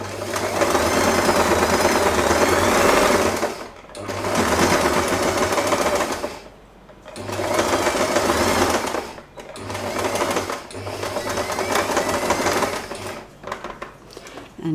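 A sewing machine stitches through thick fabric in four or five loud, whirring bursts, each a few seconds long, with short pauses between runs.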